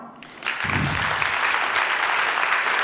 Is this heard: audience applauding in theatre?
yes